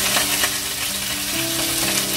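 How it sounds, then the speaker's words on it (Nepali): Cumin seeds crackle and sizzle steadily in hot oil in a pan, a dense close frying hiss with small pops and faint background tones, no voices. "म अब यहाँनिर अहिले चाहिँ जिरालाई लगाउँदैछु यसलाई ब्राउन हुने गरेर चाहिँ फुटाउने"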